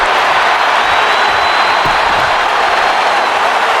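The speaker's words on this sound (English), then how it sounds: "But the crowd are fired up in Nashville." A packed Nashville arena crowd in the WWE 2K26 wrestling video game roars in a dense, constant wash of cheering and applause that stays loud and unbroken throughout.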